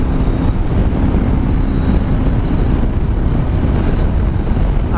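A Honda NC700X motorcycle accelerates on a highway at cruising speed. Loud, constant wind roar dominates throughout, with a faint engine drone beneath it.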